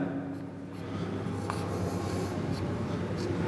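An equation of motion being written on a board, steady scratchy marker or chalk strokes in short bursts, close and quiet, with no voice.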